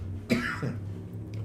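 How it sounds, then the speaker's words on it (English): A single short, close cough from one person, followed by a quieter breathy trailing sound over a low background hum. "Bit of a cough."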